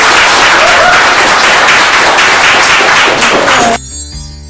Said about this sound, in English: Can we give the panel a hand of applause?